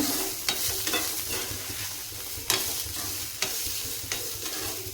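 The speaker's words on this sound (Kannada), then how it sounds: "ಈ ಥರ ನೀವು ಸ್ವಲ್ಪ ಚೆನ್ನಾಗಿ ಹುರ್ಕೊಂಡ್ರೆ ಪಲ್ಯ ಟೇಸ್ಟ್ ಚೆನ್ನಾಗಿ ಬರುತ್ತೆ." Cluster beans stir-fry in oil for a palya, giving a continuous close sizzle and crackle with periodic sharp scrapes and clicks of a spoon against the pan.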